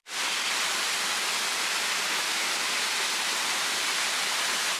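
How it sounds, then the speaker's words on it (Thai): Silver Band Falls, a waterfall in Australia, roars as a constant broadband hiss of falling water, steady and dense without any pause, heard fairly close on its own. "This is Silver Band Falls."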